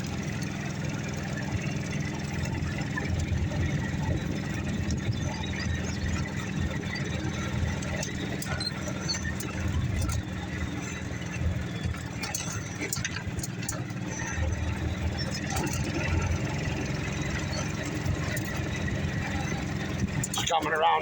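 A golf cart rumbles steadily over a rough snowmobile trail, a continuous low engine and jostling drone that runs throughout without pause.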